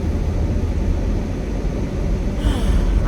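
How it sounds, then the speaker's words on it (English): A car heater fan blows steadily inside a cold car on a 29-degree day, giving a constant, fairly loud broadband whoosh with a low rumble under it and no voices. "it's the heat trying to get this car to get heated up"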